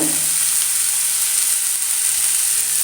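Vegetables for a vegetable roll sizzle steadily in a hot pan with garam masala, a close, even hiss of frying with no talk over it.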